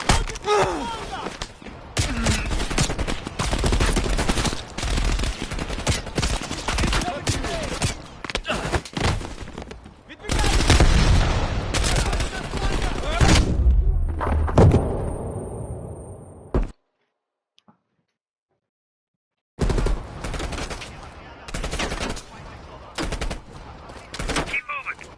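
Rapid bursts of automatic gunfire and single shots from the video game Call of Duty Black Ops Cold War, loud and dense, with a sudden silent gap before the firing resumes.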